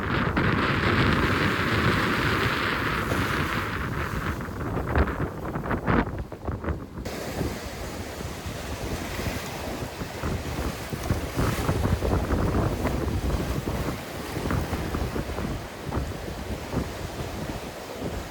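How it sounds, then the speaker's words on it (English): Strong wind buffets the microphone on the Pacific coast while waves crash and surge continuously nearby, loud and roaring throughout with no talk. "It's super windy and the waves are going crazy."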